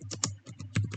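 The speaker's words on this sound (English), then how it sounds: "So here I'm typing application" Rapid typing on a computer keyboard, a quick irregular run of crisp, close key clicks with a few heavier taps, nothing else audible.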